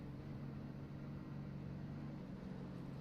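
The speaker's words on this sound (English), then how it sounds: "Yeah, you can hear that truck stuttering." Race truck engine in a truck racing video game, sputtering and stuttering as it runs low on fuel, a steady low droning rumble with uneven roughness throughout, fairly quiet and alone.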